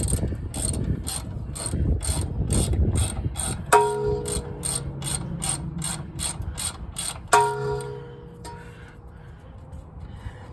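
A ratchet clicks rapidly, close and loud, in several bursts as it works a 12 mm bolt holding a brake line to a car's strut. Faint metallic knocks and shop noise come between the bursts.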